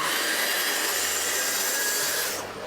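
A saw cutting through a sheet of 12mm plywood, a steady broadband rasping close by that holds for over two seconds and tails off at the end, with no voices.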